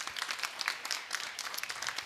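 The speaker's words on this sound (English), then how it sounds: "I'd like to ask a round of applause for them as well." Audience claps for supporting partners at the closing of the Food Systems Pavilion, a modest, fairly quiet patter of hands with individual claps audible in a loose, uneven rhythm.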